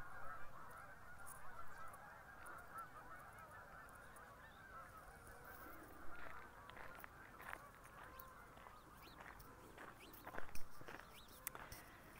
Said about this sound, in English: I don't know if you can hear the geese.